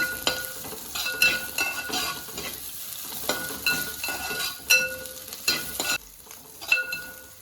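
Garlic, ginger and coconut pieces sizzle as they fry in a pan, with repeated stirring scrapes and occasional metallic clinks of a spoon against the pan, close and steady throughout with no talking.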